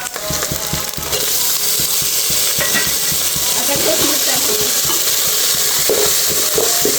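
Tomatoes are added to onions and potatoes already frying in oil, and a loud, constant sizzle fills the pan while a spoon stirs and scrapes now and then.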